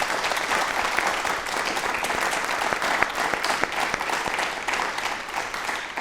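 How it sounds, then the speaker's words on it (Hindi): A live studio audience at a televised yoga talk show bursts into sustained, vigorous applause, a dense wash of many hands clapping evenly and fairly close, with no voices over it. "एक बार तालियां प्लीज जोरदार हो जाएं"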